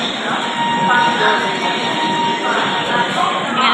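A train at the busy Tiruvarur railway junction in Tamil Nadu gives a steady, loud rumble and hum that runs through the whole stretch, with faint voices of people on the platform under it.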